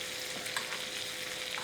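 Steaks sizzle in foamy garlic butter while being basted, a dense, even frying hiss heard close with no voices.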